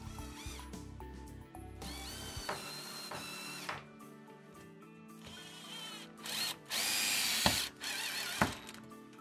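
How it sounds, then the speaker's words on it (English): A cordless screwdriver drives a screw into an aluminium shower channel profile against tiles, with several whirring bursts of varying length separated by pauses and clicks, close and clear, with no talk. "Offer your screw up and drive that in with a cordless screwdriver."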